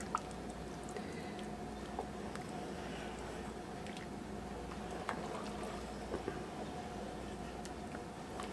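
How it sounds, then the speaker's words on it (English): A pot of Italian cheese tortellini soup with garlic simmers on the stove, giving a steady, soft bubbling and squishing with occasional faint drips and clicks, heard alone and close throughout. "I'm just letting this simmer to try to be sure that the garlic and everything is tender."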